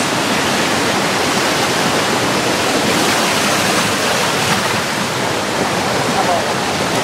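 A waterfall on a cave trip pours with a loud, continuous, even roar of rushing water that fills the whole stretch without a break.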